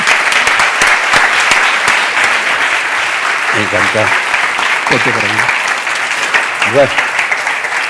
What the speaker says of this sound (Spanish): Vamos a darle un aplauso porque está...